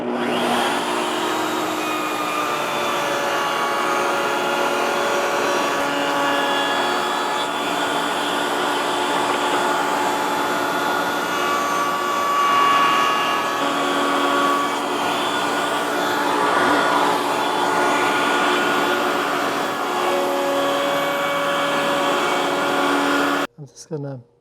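A handheld router fitted with a 1/4 inch round-over bit cuts along the edges of a wooden push stick, making a loud, steady high-pitched whine that runs continuously at close range before winding down at the end.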